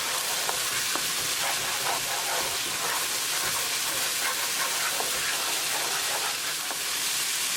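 Spices with garam masala sizzle in a hot tadka for malai paneer, a steady dense frying hiss with faint scattered stirring clicks throughout, close and even, no voices.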